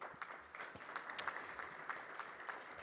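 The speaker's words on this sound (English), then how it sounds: "Let's give him a round of applause" Applause from an audience at a local content masterclass on the oil and gas industry, faint and distant, with scattered claps rising and falling over a quiet hall.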